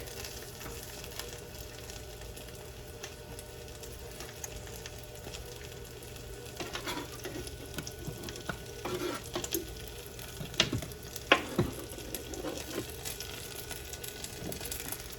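Mushrooms, oregano and garlic sizzle steadily in a little olive oil in a pan, a quiet continuous fry with a few louder stirring clicks and scrapes toward the end.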